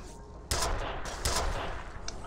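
Two sharp gunfire bursts in the shooter game F.E.A.R., loud and close, about a second apart, each followed by a brief ringing decay.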